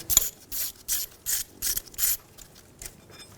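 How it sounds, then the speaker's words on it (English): A hand ratchet with a 5mm hex bit backs out the ABS sensor bolt on a 2007-2017 Ford Expedition front hub, giving several quick bursts of clicking pawl strokes, close and fairly quiet, with no voices. "Using a 5mm hex head, remove the bolt for the ABS sensor."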